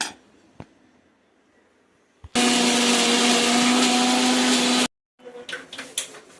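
A mixer grinder whirs loudly for about two and a half seconds, grinding fish curry masala, starting and stopping abruptly, with quieter kitchen clatter and clinks before and after.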